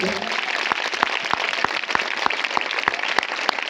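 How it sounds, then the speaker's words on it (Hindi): Sparse, evenly spaced claps cut through a steady crowd murmur, a slow rhythmic clapping from a church convention audience. "ताली बजाएंगे जरा, ताली।"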